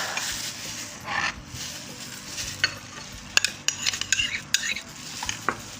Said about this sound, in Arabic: ونقلب كده الخليط ده مع بعضه